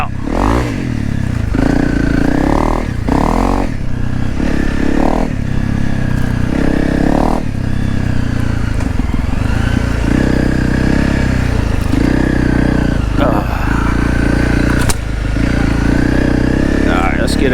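A Honda CRF 300 Rally motorcycle revs loudly on a dirt trail, its engine rising and falling in repeated throttle bursts with clatter from the rough ground.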